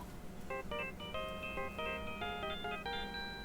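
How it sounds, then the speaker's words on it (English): A cell phone plays a samurai-themed ringtone melody in the Phoenix Wright: Ace Attorney courtroom game, a run of bright, quick electronic notes that repeats steadily at a soft, even level with no talk over it. "What is this stupid sounding ringtone?"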